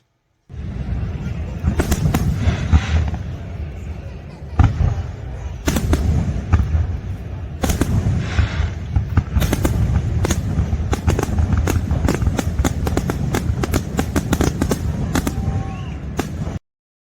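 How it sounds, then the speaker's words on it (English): Fireworks display at Branson Landing in Branson, Missouri, a long series of sharp booms and crackling bursts at irregular intervals, some spaced apart and others in quick clusters, heard from a distance. "the absolutely spectacular fireworks"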